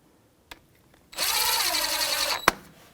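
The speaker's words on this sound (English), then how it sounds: "That's that 14 millimeter socket we're going to get and snug it up." A power drill or impact driver whirs for about a second and a half, snugging a caliper-to-bracket bolt with a 14 millimeter socket on a 2007-2017 Jeep Patriot 2.4L front left steering knuckle. A sharp click follows, with a faint tap just before.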